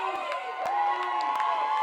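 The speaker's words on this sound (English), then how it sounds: "Great group of fans below us trying to cheer on the Vikings." A crowd of fans cheering for the Vikings at the Archbishop Murphy at North Kitsap high school football game, a sustained mixed roar of voices heard from a distance.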